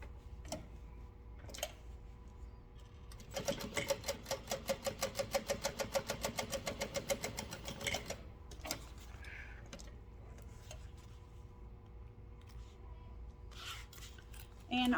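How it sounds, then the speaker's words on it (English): A sewing machine top stitches through a fabric panel and seam allowance, running in a fast, even burst of needle ticks for about five seconds, bracketed by quieter clicks and handling of the fabric. "we are going to top stitch through the top panel and our seam allowance"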